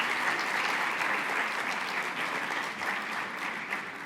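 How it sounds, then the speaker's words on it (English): Thick, sustained applause from a conference audience at an autism event in Dubai rolls on evenly for several seconds, loud and close, without talk over it. "Let's give him a really big applause."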